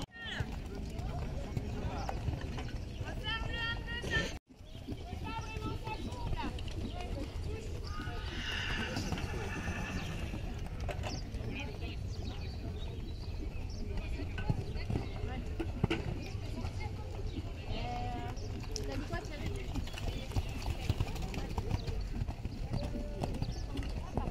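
A large pony gallops with steady clip-clop hoofbeats and lets out neighs and whinnies at a competitive horse event, while people talk and a crowd murmurs throughout over a continuous outdoor background.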